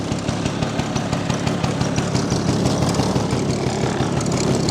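A 1968 Vespa 150 Sprint scooter engine running steadily, a loud close two-stroke buzz with fast even pulsing and no talk over it.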